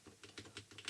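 Quick run of soft, muted keystrokes on a new A1200.net mechanical Amiga keyboard with custom linear switches, about half a dozen close taps in under a second, no click.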